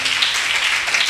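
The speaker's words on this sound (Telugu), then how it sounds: "గట్టిగా చప్పట్లు కొట్టండి." A church congregation claps loudly during a Telugu sermon, producing a dense, steady wash of many hands that holds strong and even for about a second with no break.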